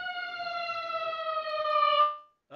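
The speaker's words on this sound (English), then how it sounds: "Sirens. I don't know what's up with that." A steady wailing siren holds a single pitch for about two seconds, fairly loud and distant-sounding, then cuts off, followed by a brief thump.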